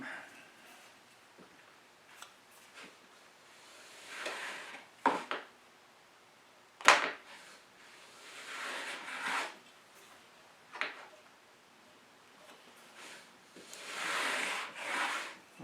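A Wood River No. 5 1/2 bench plane takes passes over a thin piece of wood held in a vise, giving several soft rasping swishes with short handling knocks between them.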